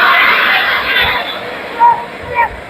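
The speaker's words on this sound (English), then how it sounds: "A throng of Singapore supporters coming to cheer their team on." Singapore football supporters at a 1994 Malaysia Cup match against Selangor, a large stadium crowd roaring and cheering in a dense, continuous wash of noise with a couple of louder swells.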